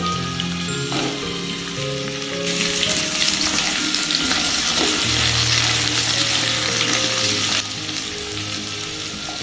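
Cut pumpkin pieces tipped into a pan with frying potatoes, sizzling loudly and steadily for the whole stretch, with a brighter crackling surge in the middle and occasional stirring scrapes, no voices.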